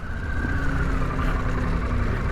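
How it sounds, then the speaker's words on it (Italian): Harley-Davidson Pan America motorcycle engine running, a steady low hum with a faint whine, moderately loud and unbroken, with no talking. "Si sente che il motore non è il classico Harley"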